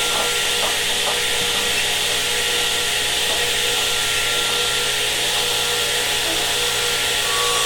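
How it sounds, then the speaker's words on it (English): A radial arm saw blade spins and lightly grazes a plywood table, a loud continuous high hiss and rub with faint ticking contact sounds, steady throughout with no talk. "Drop the blade till you hear it touch the plywood."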